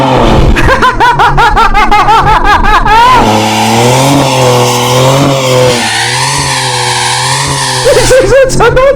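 A 2026 Dodge Charger doing a line-lock burnout at full throttle, its engine revving hard and holding a high, wavering roar, with people laughing and exclaiming loudly over the noise.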